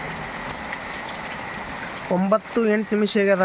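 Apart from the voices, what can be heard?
heavy rain falling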